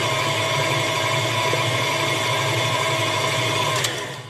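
An electric mixer beats peanut butter cookie dough with a steady, loud motor whir and hum that runs unbroken and alone until it eases off near the end.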